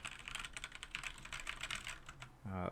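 Rapid typing on a budget Royal Kludge RK71 mechanical keyboard, a steady stream of close, clacky keystrokes with no pauses, ending in a brief low hum.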